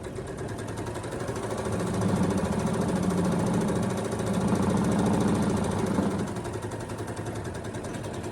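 A Handi Quilter longarm quilting machine stitches a tote bag, a steady rapid mechanical chatter that grows louder and busier in the middle stretch as it runs, with no talking.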